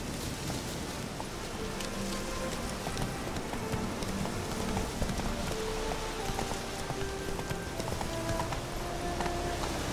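Horse hooves clip-clop steadily through rain in The Witcher 3: Wild Hunt, the rhythmic steps mixed with constant rainfall and ambient game music at an even, moderate level.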